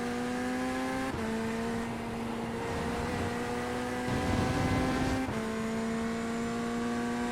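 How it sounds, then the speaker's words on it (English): A Porsche GT3 race car engine in iRacing at Road America screams at high revs, its steady harmonic whine broken by two sharp gear shifts, loud and close with no talk over it. "Hear that Porsche."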